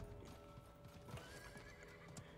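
Horse mount summoned in the game Realm Royale, with steady clip-clop hoofbeats and a whinny over a constant game background hum.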